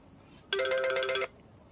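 A mobile phone ringtone sounds once, a bright electronic chiming tone lasting under a second, loud and close over quiet background.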